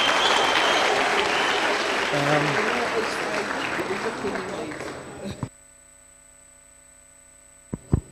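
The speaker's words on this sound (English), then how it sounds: "please let's put our hands together for this young man" A crowd applauds a young man at a Kasi business workshop in Orange Farm, with steady loud clapping that stops abruptly, leaving quiet, then a couple of sharp knocks near the end.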